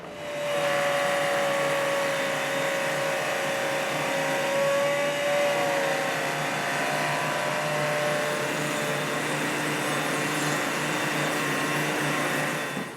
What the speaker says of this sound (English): we're going to round over the top and bottom edges with this 3/8 inch round over bit